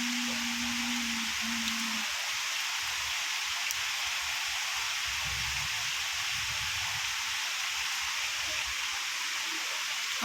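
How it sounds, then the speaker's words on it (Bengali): Steady rain falls in a long, even hiss that stays constant throughout, with a brief low tone early on and no voices. "অনেক বৃষ্টি হচ্ছে, অনেকক্ষণ যাবৎ বৃষ্টি হচ্ছে।"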